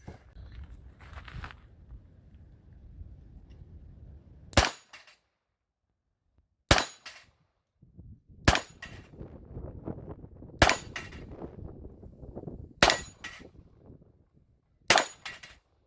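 A 1959 Colt Cobra, an aluminium-framed revolver, fires six sharp, loud shots spaced about two seconds apart, each a crisp crack with a brief ring, preceded by quiet handling noise.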